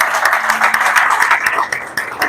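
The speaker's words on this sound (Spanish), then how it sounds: "Un aplauso a eso en esta casa." A church congregation claps together in a brief burst of applause, fairly close and dense, with a voice briefly audible beneath it.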